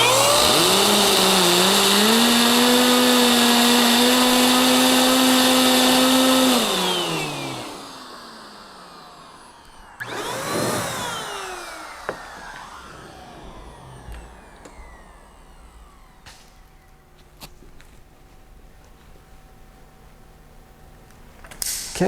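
MaxShine handheld car dryer blowing air, a loud whining motor with a rising and steady pitched tone for several seconds, then cutting off to quieter handling noise, a brief second burst and faint background hum.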